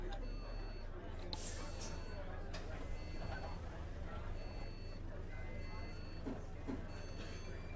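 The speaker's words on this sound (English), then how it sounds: "That door's like beep is really annoying." An OMSI 2 London-spec ADL Enviro 200 MMC bus gives a thin, repeating electronic door warning beep, faint over a steady, low engine drone that runs throughout.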